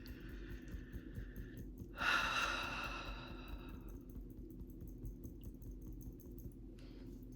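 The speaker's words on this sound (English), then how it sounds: "It feels good to take deep breaths." A single deep breath during a guided breathing exercise, a long airy exhale that swells quickly then fades over a few seconds, close and soft against a quiet background.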